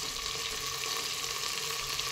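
Cabbage, tomato, beet and onion sizzle in hot oil, a steady, soft frying hiss with a faint bubbling texture, close and continuous without any talking.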